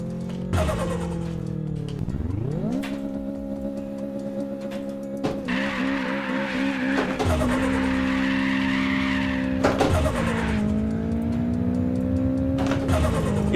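Tuned Toyota Trueno AE86 in a racing video game, its engine revving and shifting while the tires squeal and spin loosely, a continuous loud run of rising and falling pitch with repeated skids.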